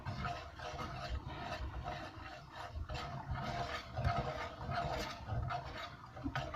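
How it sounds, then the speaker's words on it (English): A whisk scrapes steadily through a butter and flour sauce for meatballs, a close, continuous rasping and rubbing with brisk repeated strokes against the pan and no talking. "So we whisk that real good."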